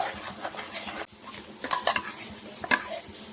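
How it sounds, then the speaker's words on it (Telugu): Spinach and cashew paste tipped into a hot pan and stirred, with scraping of a spoon against the pan, light clatter and a soft sizzle in uneven bursts, close and moderately loud. "మనం మిక్సీకి వేసుకున్న పాలకూర, కాజు పేస్ట్ ఇప్పుడు వేసేసుకోవాలండి"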